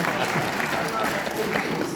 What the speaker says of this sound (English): Please, no applause.